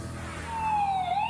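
An ambulance siren sweeps up in a brief, faint rising wail over low rumbling road noise.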